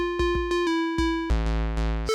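A short electronic loop sequenced in the Drambo app plays alone: a steady pitched synth tone with regular punchy low drum hits, then a shift to a denser, brighter chord pattern, all clean and close.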